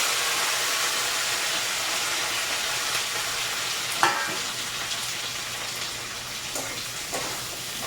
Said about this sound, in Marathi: कांदा मिरची आणि कढीपत्ता हे सगळंच घालायचं तेलामध्ये